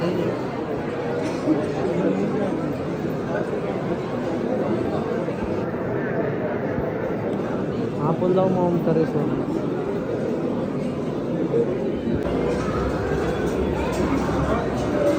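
A dense crowd fills the Mahakaleshwar temple in Ujjain with a constant hubbub of overlapping voices and chatter, close and steady throughout, while nearby people talk over it.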